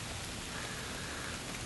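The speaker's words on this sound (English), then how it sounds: "The rain is really coming down." Heavy rain pours steadily over an open field, a dense, even hiss of falling water with no breaks, loud and close throughout the short stretch.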